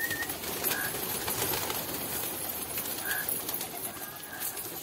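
Pet pigeons coo softly amid steady background noise, the low calls faint and hard to pick out over five seconds.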